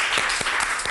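Applause at a Neapolitan puppet show of guarattelle and Pulcinella, a dense steady patter of many hands clapping close by for the full second.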